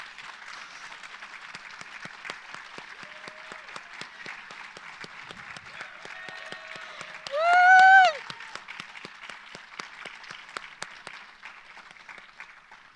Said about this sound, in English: Now you all may clap.